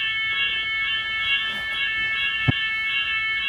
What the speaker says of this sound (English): If you were wondering why I didn't just leave the building when there was a fire alarm, it's because it literally goes off about twice a week